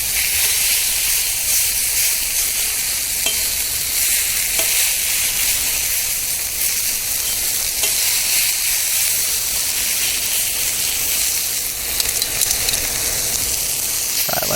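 Steak sizzling on a Mojoe griddle while it is sliced on the hot surface: a steady, loud frying hiss with faint scraping and tapping through it and no talking.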